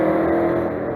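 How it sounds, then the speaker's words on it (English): A loud car passing by, a brief, close engine roar that holds steady and dips slightly at the end, with no voices. "I got fucking distracted because of this loud ass fucking car"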